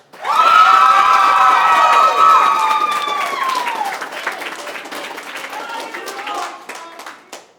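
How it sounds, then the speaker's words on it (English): A theater audience claps and cheers loudly, with whoops and shouted voices over sustained applause that slowly thins out. "let's have a round of applause"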